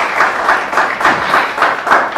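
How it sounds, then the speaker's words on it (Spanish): Live audience at a Mexican comedy stage show applauding, a dense and steady wash of clapping with a slightly rhythmic pulse running through the whole stretch. "aplausos para los 4 que van a pasar"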